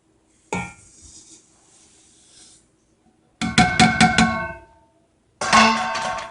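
Sugar poured into a pot of blackberries for jam, rattling and clinking bursts against metal, with one faint pour then two loud, busy spells of grainy clatter separated by silence.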